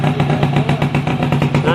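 Motorcycle engine running at a steady idle close by, a throbbing rhythmic putter with a low hum throughout.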